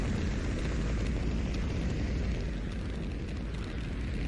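A rocket launching into the sky in Black Mesa gives off a steady, loud, broadband roar like a distant engine rumble, sustained without break and with no voices.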